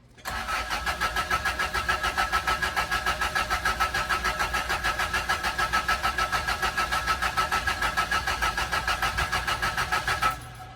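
A 1979 Toyota Corolla Deluxe pulled from a scrapyard starts up and settles into a steady, loud, close-up run. Its rapid rhythmic engine pulses continue evenly until they stop abruptly, with no talking.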